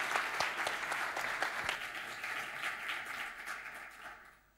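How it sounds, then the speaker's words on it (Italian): An audience at a research and innovation event applauds Luigi, dense clapping fading gradually over a few seconds. "Bene, un applauso ancora a Luigi."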